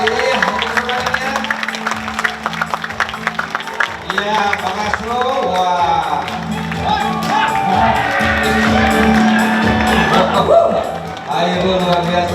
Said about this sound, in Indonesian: Tepuk tangan yang meriah, tepuk tangan dong.